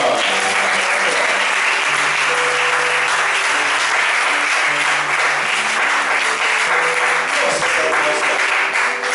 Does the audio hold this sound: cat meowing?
no